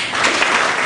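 Dense crowd applause at a Chicago Business Hall of Fame awards dinner, a loud, even wash of many hands clapping together for just under a second.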